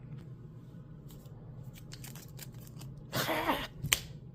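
Playing cards for a Heroes of Might and Magic tabletop game are shuffled close by, a quiet run of light flicks and riffles ending in a louder burst of fluttering cards and a sharp snap.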